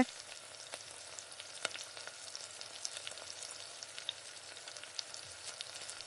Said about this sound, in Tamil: இப்போ இது கூடவே வெங்காயத்தை சேர்த்துக்கலாம்.